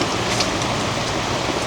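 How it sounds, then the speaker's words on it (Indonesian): Heavy rain pours down at a campsite by a tea plantation in strong wind, a loud dense hiss of drops on surfaces that fills the brief moment without any talk. "kebetulan juga sekarang lagi hujan dan anginnya lumayan besar"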